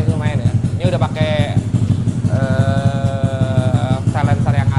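Yamaha Mio motorcycle fitted with a long exhaust silencer, its engine running close by with a steady low rumble and brief revving, while someone talks over it throughout.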